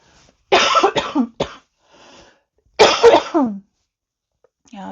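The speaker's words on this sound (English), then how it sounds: "I'm still having that cough" Two bursts of harsh coughing from a person with a lingering cough, each a cluster of rough hacks with a short throaty tail, close and fairly loud, separated by quiet.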